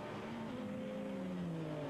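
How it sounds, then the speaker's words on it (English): A V6-engined Volkswagen Beetle race car at Brands Hatch during a Volkswagen Racing Cup race, its engine droning loudly with the pitch sliding steadily down over a couple of seconds as it passes. "that gorgeous V6 sounding Beetle. It really does sound magnificent, that car."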